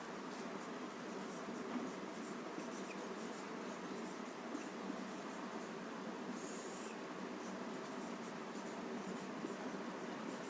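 A teacher writes on a board during a history lesson, a steady dry scratching that runs continuously under faint room hiss, with no one speaking.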